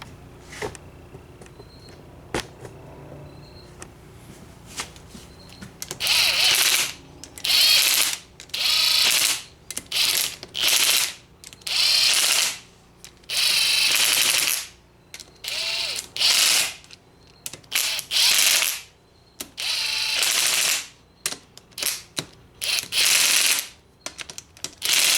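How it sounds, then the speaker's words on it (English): Impact wrench running down bolts on a Banshee top end with 4 mil stroker cylinders and cool head, heard as a series of about a dozen short, loud whirring bursts separated by brief pauses, close by. "now we're running down with the impact snug"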